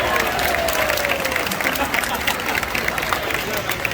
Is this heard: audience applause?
yes